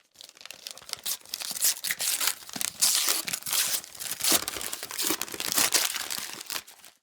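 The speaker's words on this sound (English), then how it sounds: "I thank him with an aggravated tone and begin to unwrap the gift." A small wrapped gift package being unwrapped, paper crinkling and tearing in close, busy bursts for about seven seconds with no talking.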